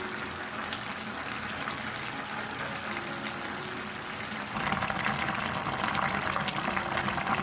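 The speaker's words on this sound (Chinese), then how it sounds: "大火煮开转小火焖15分钟" A Hakka radish meatball pot with shiitake soaking water, water and soy sauce simmers covered on the stove, a steady close bubbling hiss that grows a little louder and brighter partway through, with no talk.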